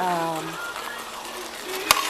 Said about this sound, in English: I'm just letting it cook in its own juices for a while.